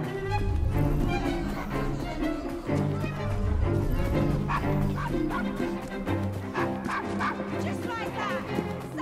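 A dog barks and yips in the game Assassin's Creed Syndicate, short repeated calls set against a busy bed of in-game music and voices.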